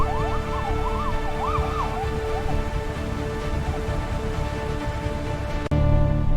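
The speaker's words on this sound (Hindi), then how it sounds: "सायरन की आवाज गूंज रही थी। पूरा शहर देख रहा था उस काफिले को।" Wailing police sirens from a convoy of police vehicles moving through a city, a warbling siren sweeping up and down over steady traffic rumble, then fading into continuous engine noise.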